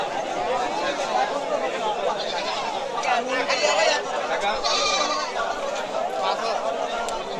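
Native-breed goats, all black, bleat amid a busy livestock market, their calls rising over the steady chatter of a crowd of traders and buyers nearby.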